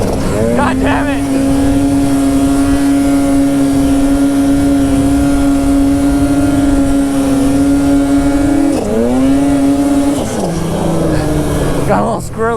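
Two or more snowmobiles, including a Ski-Doo Turbo and a Polaris Boost 165 turbo, race in the snow with a steady, loud, high-pitched engine drone that holds for a long stretch, dips sharply, and then falls lower toward the end.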